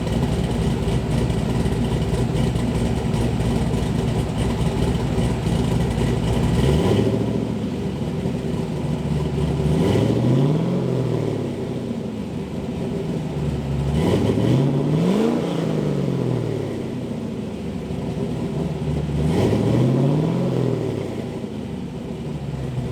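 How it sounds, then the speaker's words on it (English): A warmed-up, LS-swapped Mazda Miata V8 rumbles at idle, then rises and falls through four separate throttle blips, each a loud swell that drops back to the idle burble. "I'm going to give you guys a taste of a little bit of a rev."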